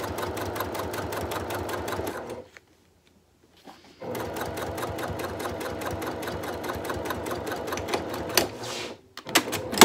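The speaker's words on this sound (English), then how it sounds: "And then I sew the second half, wrong sides together." Sewing machine stitching a handbag strap, wrong sides together, in rapid continuous bursts of needle clatter, pausing briefly near the start of the second third before resuming, close and clear with no talk.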